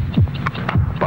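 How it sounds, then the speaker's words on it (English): A heartbeat sound effect from a vintage Bufferin TV commercial: two soft, low thumps about half a second apart, close and alone over a faint hum. "72 heartbeats."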